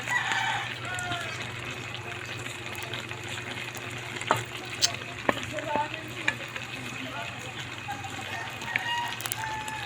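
Bottle gourd (upo) stir-fried in a pan, with a continuous sizzle and scattered sharp spatula clinks against the metal, while a rooster crows in the background.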